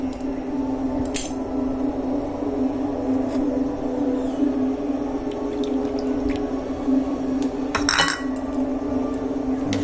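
A spoon scrapes and knocks against a pot while stirring thick maja blanca, a coconut and corn pudding, over a constant stove hum, with sharp clinks near one and eight seconds and soft wet sounds between.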